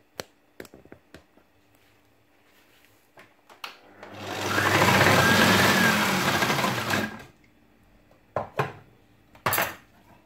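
Kitchen slicing machine cutting apples into slices, a dense whirring mechanical run of about three seconds, close and loud, framed by sharp clicks and knocks of handling before and after.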